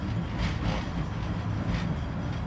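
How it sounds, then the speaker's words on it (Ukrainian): A Soviet KTM-5 tram rolls along the rails in Kryvyi Rih with a steady, loud low rumble and faint rhythmic rail clatter, and no talk. "КТМ-5 ще до того ж наймасовіша модель трамвая у світі."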